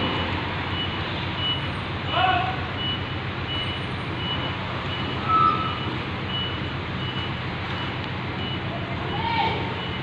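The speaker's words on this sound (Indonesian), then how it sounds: "ternyata yang masuk nih truk duluan" A truck reverses into a tightly packed space, its reversing alarm giving faint, spaced beeps over steady engine rumble and background chatter.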